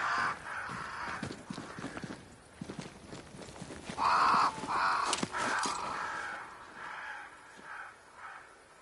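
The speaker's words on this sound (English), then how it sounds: "Crows. They flock to that great tree up there." Crows caw around a great tree in the video game Banishers: Ghosts of New Eden. Several harsh calls repeat over a few seconds, loud and close, above hoof-like clopping footsteps and ambient noise.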